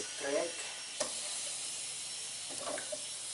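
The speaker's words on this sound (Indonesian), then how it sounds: "Kita kembali menunggu air potatonya sedang digodok atau direbus." Air potato boiling in a pot, a steady hiss of bubbling water with faint sizzling texture, heard under a man's quiet speech.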